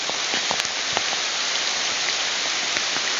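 Heavy rain pours down in Zambales, a dense, continuous hiss of drops hitting surfaces close by, steady and loud from start to finish with no talk.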